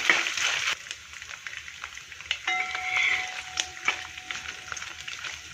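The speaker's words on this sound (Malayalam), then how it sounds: "തേങ്ങാപ്പത്ത് വേറെ വറുത്തെടുക്കാനൊന്നും വേണ്ട ഇതിലേക്ക് തന്നെ ഇട്ടങ്ങ് വറുത്തെടുത്താൽ മതി" Coconut slices frying in hot oil with mustard seeds for a soya ball dish, a steady close sizzle with small pops and crackles, louder at first and then settling, with no talk.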